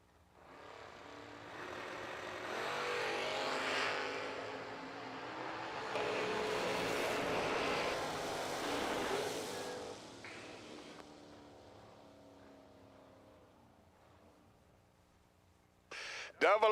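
An Oldsmobile and a pickup launch in a drag race and roar past at a distance. Engine noise builds, holds for several seconds, then fades under a crowd and announcer, with a sharp burst near the end.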